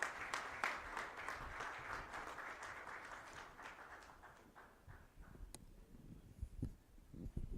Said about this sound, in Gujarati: આવો ખૂબ તાળીઓ સાથે માનનીય મુખ્યમંત્રી શ્રી ભૂપેન્દ્રભાઈ પટેલને તેમના વિશેષ સંબોધન માટે આવકારીએ.